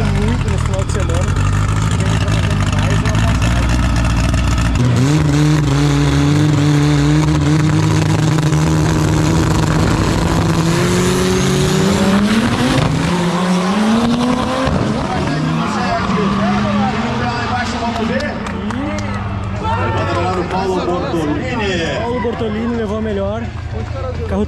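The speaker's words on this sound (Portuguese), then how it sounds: "Já temos o Terralheiro na pista. O carro está andando muito nesse final de semana." A drag race car's engine roars and accelerates down a no-prep drag strip at Tarumã, pitch rising through gears, with an excited commentator talking loudly over it the whole time.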